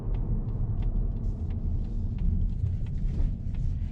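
A 2019 Mazda3 hatchback rolling over road bumps, heard from inside as a deep, steady low rumble with soft thumps and road noise throughout.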